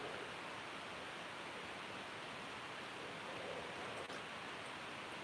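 Water tipped from a container into a small cap at a crafting desk, heard as a steady, soft broadband pour-like rush that continues evenly throughout with no talking.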